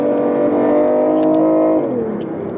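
A BMW i8's engine holds a steady, loud revving drone inside the car, then the pitch drops sharply as it shifts gear, followed by a lower, fading tone; no one speaks.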